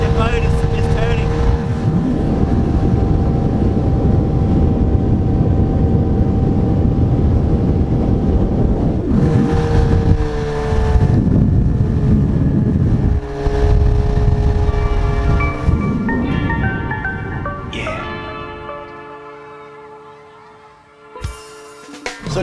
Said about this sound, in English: When you're traveling at speed or planing, as James just displayed